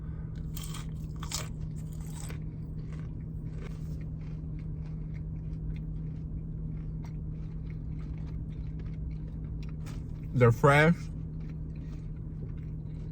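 Close-up crunching bites of crispy fried Hardee's onion rings, with a few sharp bursts of chewing at intervals under casual speech.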